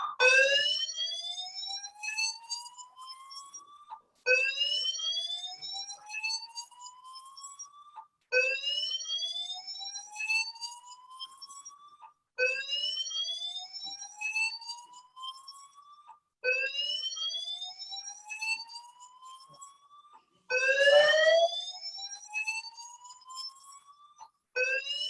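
Loud fire alarm repeating in six rising electronic whoops, each roughly four seconds long with brief gaps, sounding steadily throughout with no talk.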